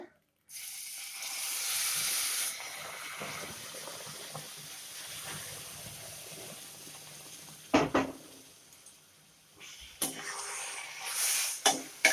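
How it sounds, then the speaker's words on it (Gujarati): Hot boiling milk poured into roasted wheat flour for sheera, giving a hissing, bubbling sizzle that swells early and returns in short bursts, with brief handling noises and no talk. "પછી આપણે દૂધ એડ કરીશું। ઉકળતું દૂધ છે।"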